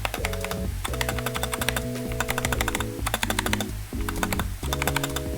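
Rapid, steady keystrokes and spacebar presses on a Pressplay Voyager68 2021 version mechanical keyboard, close and crisp, with a droning tonal sound beneath the clacking.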